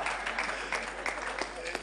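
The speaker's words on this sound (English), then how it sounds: "Another round of applause for you." An audience at a fireside chat applauds, a faint, steady patter of many hands clapping heard from a distance for a couple of seconds.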